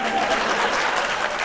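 A short burst of studio audience applause on a talk show, dense and steady clapping at moderate loudness.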